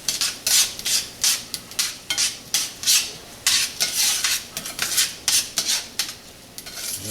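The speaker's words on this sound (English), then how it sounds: "Saute down that." Green onion, garlic and jalapeno peppers cook in a pan, heard as a steady run of rhythmic scraping and stirring strokes from a utensil against the pan, close and fairly loud, with no talking.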